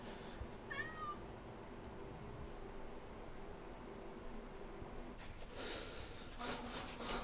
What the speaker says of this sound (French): Il est insupportable ce chat.